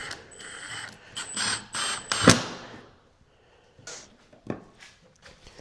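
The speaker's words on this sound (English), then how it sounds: "I'm actually gonna screw it into the table to make it not move around on me" Screw driven into a table to hold a pocket hole jig in place, heard as a close run of ratcheting, whirring mechanical bursts with a sharp clack, then quieter scattered clicks and handling noise.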